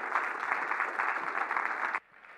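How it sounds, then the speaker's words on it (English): A church congregation claps together during a Sunday morning service, loud and even applause that stops abruptly after about two seconds, leaving a quieter room tone. "give him another hand clap"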